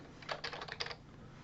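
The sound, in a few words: typing payment details on a computer keyboard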